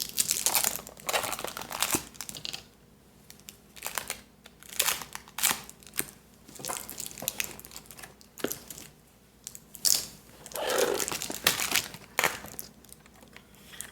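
Crepe paper from a Dollar Tree haul being handled close up, with repeated bursts of crinkling and rustling that come and go in an irregular rhythm, and no talking.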